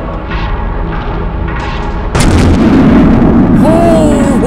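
Grenade blast in the giallo survival horror game The Glass Staircase: a sudden loud, dense boom erupts and sustains as a broad rumbling roar, followed by a rising whine, over constant background game noise.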